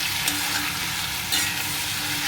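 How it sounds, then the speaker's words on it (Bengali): Pointed gourd and potato pieces fry in oil with turmeric, giving a loud, steady sizzle close by, broken by a few scraping stirs of a spatula against the pan. "পটলটা একটু ভাজা ভাজা হোক আলুর সঙ্গে।"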